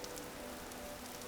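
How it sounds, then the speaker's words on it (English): Steady rain falls in the block-building survival game Vintage Story, a continuous soft hiss of drops spread evenly across the short stretch with no voices. "Plus the rain really helps out."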